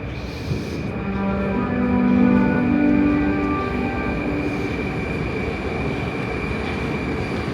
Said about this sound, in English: And here is the train coming into the station.